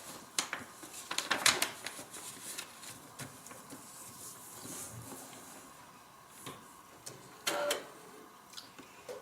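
A sewing machine stitches pieces of fabric for a small bag, coming in short motor bursts with pauses between them, near and moderately loud with no talking.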